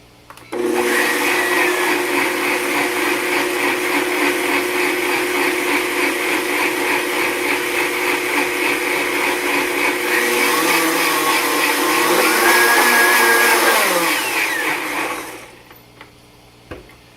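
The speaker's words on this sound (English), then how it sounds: "So here we have everything in the blender." A blender whirs loudly and continuously for about fifteen seconds blending Asian slaw ingredients including dates, its motor pitch wavering as the contents churn, then spins down and stops.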